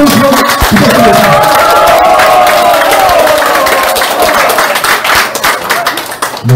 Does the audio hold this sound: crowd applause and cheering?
yes